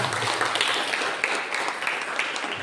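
A congregation at a Christian praise service claps together, producing a dense, steady patter of many hands at moderate volume with small bursts of louder claps.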